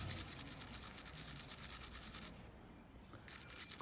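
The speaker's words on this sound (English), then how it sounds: "It's just a little cheap steel brush." Steady scratchy rubbing of a cheap stainless steel wire brush scrubbing a Victorinox pocket knife, brisk back-and-forth strokes close up, with a short pause before the scrubbing resumes.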